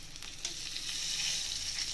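Red chillies and greens fry in a little oil, a soft, steady sizzling hiss close by with faint stirring and no talk.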